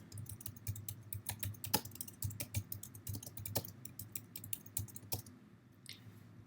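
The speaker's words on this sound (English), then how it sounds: "If I start typing" Rapid keystrokes clatter on a computer keyboard, a steady run of close, crisp clicks with a low hum underneath.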